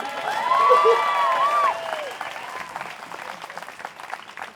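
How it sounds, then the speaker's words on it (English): An audience applauding at a school graduation ceremony, dense clapping with a few cheers and whoops, loudest at the start and gradually thinning out. "Clap for that!"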